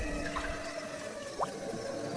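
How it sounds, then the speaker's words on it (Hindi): Syrup from packed rasgulla drips inside a hanging bag, heard as faint, irregular wet drips and trickles over a low background hiss, with one brief louder drop near the middle. "उस बैग के अंदर से कुछ टपकने की आवाज"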